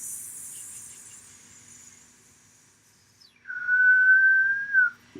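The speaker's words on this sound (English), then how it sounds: "whistling to keep you entertained" A person whistles, first a faint high sustained tone, then after a brief pause a louder, clearer lower note held for over a second, alone without talk.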